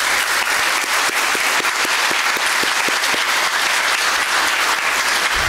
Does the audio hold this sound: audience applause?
yes